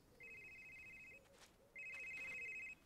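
A phone rings twice with electronic trilling bursts separated by a short pause in the game Someday You'll Return, sounding clear but quiet against a faint background.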